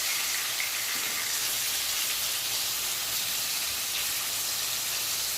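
Fish frying gently in oil, lightly fried and turned to the other side: a steady, dense sizzling hiss continues evenly throughout, close and fairly loud with no pauses.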